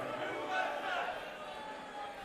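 A dense wash of crowd noise from a large arena at the QuakeCon 2016 Quake finals, a steady murmur with a slight swell, heard at a distance.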